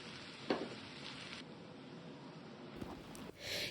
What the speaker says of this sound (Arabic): هنحط شوية زيت وحتة زبدة. هننزل بصلة صغيرة هنشوحها كده